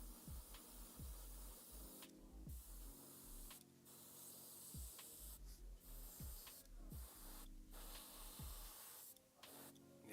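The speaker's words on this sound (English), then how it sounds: "we're spraying a little better now" Paint spraying onto a Frost Gargant miniature makes a steady hiss that breaks off into short pauses and repeated bursts, fairly close and with no talking.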